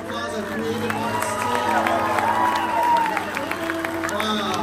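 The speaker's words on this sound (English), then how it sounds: "another round of applause, our Creative Arts" A church congregation applauding during a Resurrection Day evening service, a dense wash of clapping with some cheering and shouts, heard at moderate volume.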